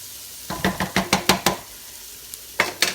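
Onions cooking down in oil over high heat, heard as a quick run of sharp scraping stirs against the pan, a short pause, then a few more strokes.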